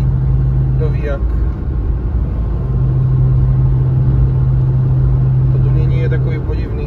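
Car engine droning through a straight-through exhaust at highway speed, a loud, steady low rumble with a constant hum. A person talks over it in the cabin.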